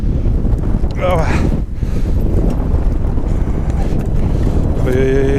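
Strong wind buffets the microphone atop a 60-meter industrial chimney, a loud continuous roar with gusts, while someone briefly speaks under it.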